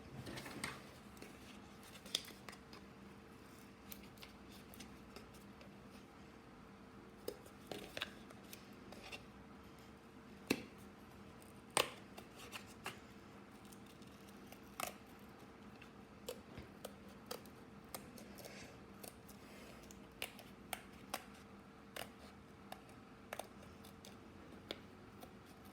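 Scissors snipping through a homemade pop-it fidget toy, giving quiet, sparse clicks and short snips scattered at irregular intervals over a faint steady background hum.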